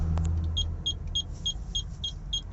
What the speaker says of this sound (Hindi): फिर से इग्निशन ऑन कर दिए।